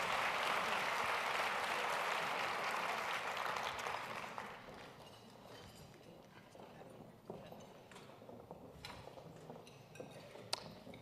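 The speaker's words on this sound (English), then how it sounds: "let's give the boys and girls another round of applause" An audience at a school essay-contest awards ceremony gives a round of applause that is full at first, then fades after a few seconds into scattered claps, footsteps and small clinks as students leave the stage.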